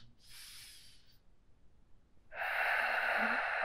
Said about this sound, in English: And so you're breathing deep here.